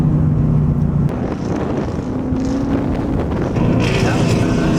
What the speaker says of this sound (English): We're headed downhill right now. Get that engine braking going.